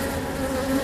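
Honeybees buzzing inside a hive packed with nectar, a steady close drone heard alone for under a second.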